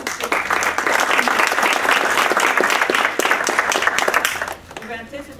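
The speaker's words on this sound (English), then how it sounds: "now let's give a round of applause" Sustained audience applause at an AFSA Foreign Affairs Day scholarship awards ceremony, dense steady clapping from a crowd for about four and a half seconds before fading out near the end.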